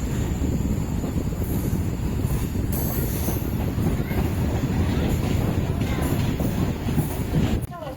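A MEMU passenger train running on rails, with a loud, continuous rumble and rattling wheel noise from inside the moving train, faint squeals over the top and a brief change near the end.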